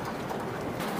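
Pigeons at a Bangladeshi pigeon seller's loft make a dense, continuous murmur of soft cooing, close and steady throughout.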